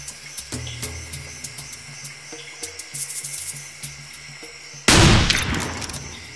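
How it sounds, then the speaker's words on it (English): In Cabela's African Adventure, a single loud shotgun blast booms near the end, after a stretch of quieter game ambience with light clicks and tones. "A shotgun, it's not a rifle."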